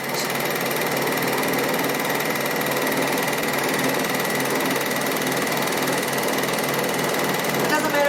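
An overlocker serges rows of fabric, a steady, continuous mechanical whirring hum that runs unbroken and fairly loud throughout.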